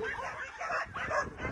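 Several dogs set to go out for a walk yip, whine and bark in a busy, overlapping stream, moderately close, with some speech-like sounds mixed in.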